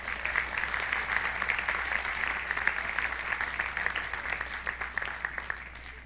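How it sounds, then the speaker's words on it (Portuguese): A church congregation applauds during a worship service, a steady, dense wash of clapping from many hands that holds for several seconds at moderate distance. "Você pode aplaudir ao Senhor?"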